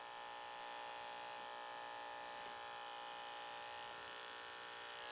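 Steady, close electric hair clipper buzzing continuously as it cuts curly hair during a high fade, with a constant motor hum and faint shifts as the blade moves through the hair.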